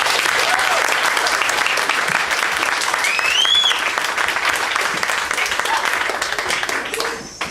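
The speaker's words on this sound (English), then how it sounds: "Please give these inspiring young authors another round of applause." Audience applause for young authors at a high school book launch party, loud and sustained with many hands clapping, a few cheers and whoops rising within it, fading toward the end.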